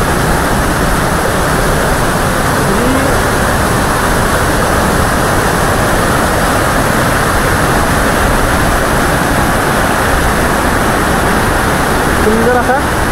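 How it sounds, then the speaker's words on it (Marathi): Kelavali waterfall near Satara roars as a dense, continuous wash of falling water, loud and close, with no letup and no one speaking. "सुंदर असा वॉटरफॉल आहे"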